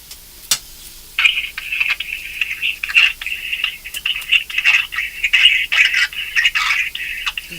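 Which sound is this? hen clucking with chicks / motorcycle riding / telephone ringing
telephone ringing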